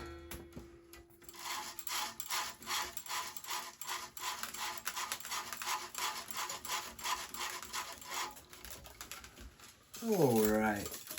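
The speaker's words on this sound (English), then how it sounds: "use my middle finger to weave the strings" Strings being woven by hand through a Babolat Aero Pro Drive tennis racquet, a close rhythmic rubbing and scraping repeated in quick strokes, ending with a brief voice.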